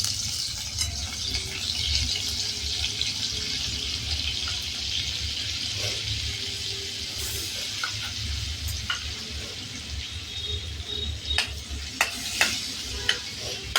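Butter melting into hot oil in a kadai for matar khima, a continuous close sizzle and hiss that carries on steadily, with a few sharp clicks and taps toward the end and no speech.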